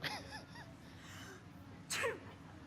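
A single sharp sneeze bursts out near the end, preceded by a few faint vocal squeaks and breathy sounds, fairly quiet overall.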